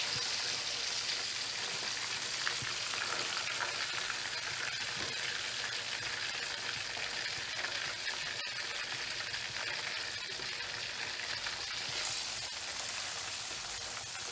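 Pieces of chicken fry in hot oil for a crispy chicken pizza, giving a dense, even, rain-like sizzle that stays loud and steady from start to finish with no voices.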